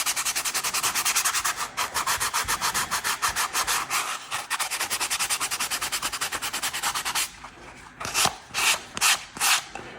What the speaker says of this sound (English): And this is just the sanding block